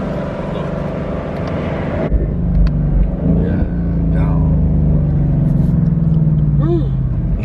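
A Ford Mustang GT engine rumbles loud and close inside the car, dropping in pitch at a gear change and then pulling up steadily under acceleration, with people talking over it.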